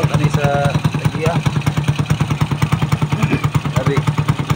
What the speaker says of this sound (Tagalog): Loaded ang engine no. RPM pa lang loaded na dito ang engine.